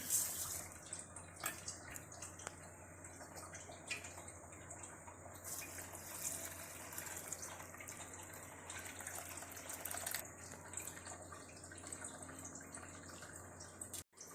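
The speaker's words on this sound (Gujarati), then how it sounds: "પેલા દાળને ધોઈ નાખીએ મિક્સ કરીને" Lentils (dal) are washed and stirred by hand in water at home, producing faint, soft sloshing and trickling that continues quietly throughout with no talk.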